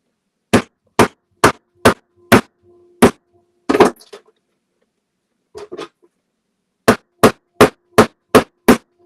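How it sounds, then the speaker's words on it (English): Sharp, loud hammer strikes land in a quick, even run of six, then a scraping clatter and a pause, followed by a second steady burst of six blows close by. "Obviously a hammer here."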